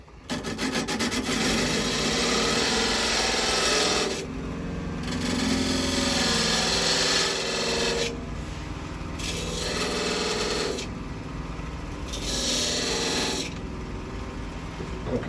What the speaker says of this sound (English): that's a 16th inch parting tool